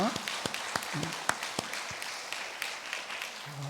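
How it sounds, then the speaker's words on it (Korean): A church congregation at a Thanksgiving service claps in a scattered, moderately quiet round of applause, individual claps standing out against the room's low murmur. "하나님께 영광의 박수를 올려드리겠습니다"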